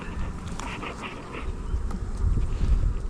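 Honey bees buzz steadily around hives recently moved for the summer, a dense, continuous insect drone with low wind rumble underneath, swelling slightly louder toward the end.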